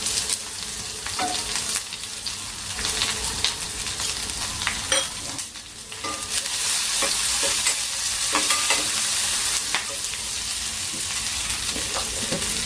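Onion and curry leaves sizzle in hot oil with mustard seeds, a continuous close frying hiss broken by frequent stirring scrapes and small pops throughout, with no voices.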